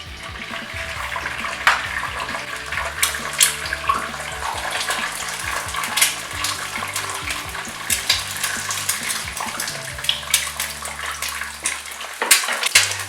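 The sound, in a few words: egg frying in hot oil in a pan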